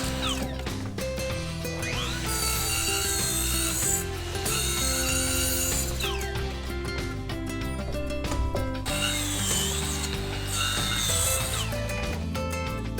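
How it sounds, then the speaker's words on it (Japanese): Hand saw cutting a Japanese red pine stair board, rhythmic rasping strokes repeating steadily and close, with bright scraping surges on each pass. "切るときは先ほどと同じように一回後ろにノコ目を入れてやって、そして前からゆっくり切るようにします。"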